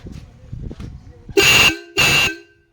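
Two loud, sustained horn honks from a Ford 3600 tractor sound close by in quick succession, following a stretch of muffled speech.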